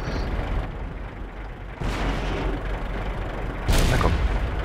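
A T29 tank cannon firing in the video game World of Tanks, two heavy booming shots about two seconds apart over a steady rumbling engine drone.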